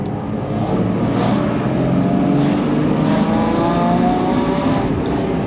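A BMW E36 325i engine fitted with a new stainless steel exhaust header revs smoothly through the low-to-mid range, its droning tone rising gradually and held steady and close, with no talking.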